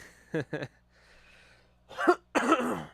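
Two quick coughs close to the microphone, a short pause with faint background noise, then a louder throat-clearing burst and a harsher cough or sneeze.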